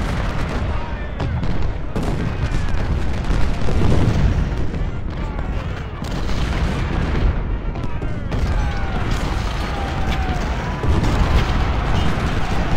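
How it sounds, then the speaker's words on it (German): Cannons firing in the Civil War strategy game Ultimate General at the Battle of Malvern Hill, repeated booming artillery shots over continuous battle din and musketry, dense and loud throughout. "die Kanonen schießen sogar auf mich selbst wahrscheinlich"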